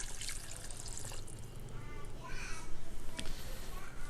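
A glass of water is poured into a pot of mutton curry (karahi), giving a steady splashing pour with a brighter burst of liquid near the end, close-up.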